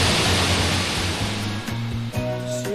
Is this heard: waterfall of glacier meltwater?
yes